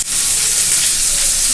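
A loud, continuous hiss and crackle of water poured into a hot pan, sizzling steadily and close up without any voices.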